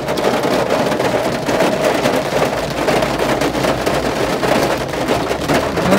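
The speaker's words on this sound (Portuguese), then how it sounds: "Claro, está chovendo super." Heavy rain pours steadily and loudly, a dense continuous hiss of drops drumming on surfaces with no break throughout.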